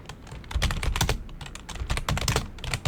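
Loud computer keyboard typing clatters up close in quick, uneven runs of keystrokes with brief gaps, with no talking over it.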